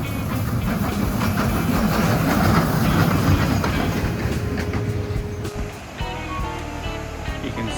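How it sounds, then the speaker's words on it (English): A small tourist train in the mountain town of Wulai, Taiwan, rumbles past close by, a steady loud roll with faint rail clatter, easing slightly near the end. "we're just about to get overtaken by not only a motorcycle but by the little train."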